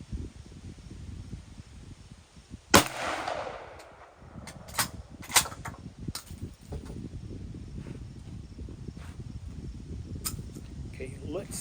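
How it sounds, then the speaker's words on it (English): A cheap $100 shotgun is fired once from a prone position outdoors, giving a single sharp loud blast that rings out over a constant background of insects. A few faint clicks and handling noises follow. "And we're going to prone shoot, so that'll give you a good representation of like what a typical hunting encounter might look like."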